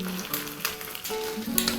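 An egg frying in a pan for a vegetarian breakfast hash with roasted peppers and onions, giving a steady close sizzle with a few brief tonal clinks over it, and no voices.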